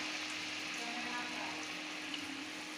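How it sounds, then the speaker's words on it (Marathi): Kombdi vada dough sizzling in hot oil, a steady dense crackle and hiss that runs unbroken from start to finish, close by. "हे बघा, मी तेलामध्ये टाकलं आहे."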